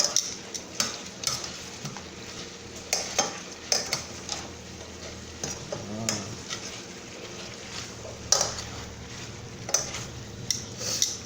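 Smothered chicken and vegetables cooking in a skillet, a steady low sizzle under frequent clicking scrapes of a utensil stirring against the pan, close and moderately loud, with no talking.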